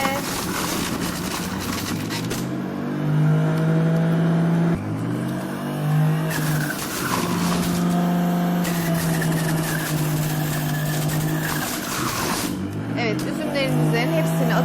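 A Sinbo juicer runs on its first, lowest setting while juicing soft grapes, giving a steady electric motor hum with a droning whine. A person talks over it throughout.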